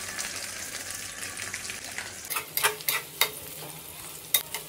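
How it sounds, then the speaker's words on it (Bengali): Dried chili and chopped onion fry in hot mustard oil, a steady soft sizzle broken by several sharp crackles and stirring scrapes from the pan, with no talk. "এখন এই তেলের ভিতরে দিব হচ্ছে শুকনো মরিচ আর হচ্ছে পেঁয়াজ কুচি।"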